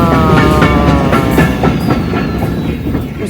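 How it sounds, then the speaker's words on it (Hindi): Railroad cars roll past close by, their wheels clattering in a steady clickety-clack rhythm over the rails, with a loud rumbling roar and faint squeals throughout. "ये होगी रेलगाड़ी खत्म।"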